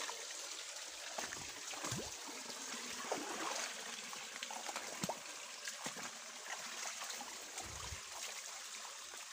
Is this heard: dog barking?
no